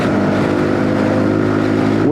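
A Zontes G125 (ZT125 G1) motorcycle engine revs loudly while riding, climbing toward high RPM near redline. The buzzing tone holds throughout with no speech.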